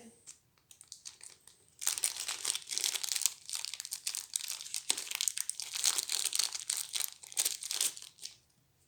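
Plastic wrapping on an Onirim board game box is torn open, producing close, irregular bursts of crinkling and tearing over several seconds, with a quiet voice speaking before and between the crinkles.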